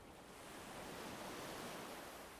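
Sea waves wash in a soft, continuous surf that swells slightly and then holds steady, faint and distant with no voices.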